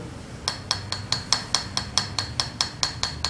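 Steady rapid tapping of a rubber-tipped pencil on a piece of wood, about a dozen bright even knocks in a regular rhythm over a faint background hum.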